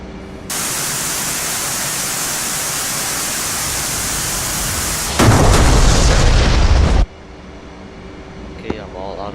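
A weapon hit in the DCS F/A-18 flight simulator, heard over steady radio static: a burst of loud, rumbling explosion noise lasting a couple of seconds before the hiss drops back, with no talking.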